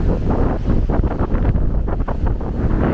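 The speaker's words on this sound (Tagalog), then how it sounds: "Napakalakas ng hangin." Strong wind roars steadily into the microphone in Baler at 5:30 in the afternoon, a dense continuous rumble with gusty surges and no voices.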